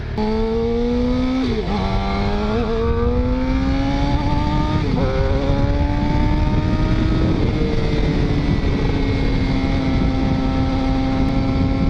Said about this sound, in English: Oh man, I love this exhaust.